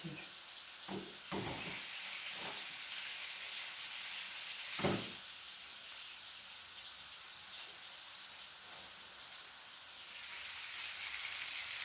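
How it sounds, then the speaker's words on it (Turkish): Steady, soft sizzling of meatballs frying in butter in a pan throughout, with a few brief clinks and stirring sounds near the start. "kızartıyorum"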